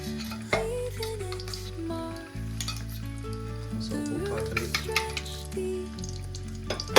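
Eggs frying in hot oil with chilli powder for a home-style egg curry, a steady sizzle running the whole time under loud, tuneful background music.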